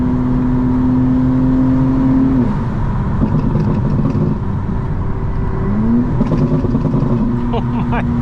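A 900 hp 2025 BMW M4 Competition engine while driving: a sustained high-revving tone drops off as the car shifts, then climbs again near the end, loud and close, with a voice heard briefly in the middle.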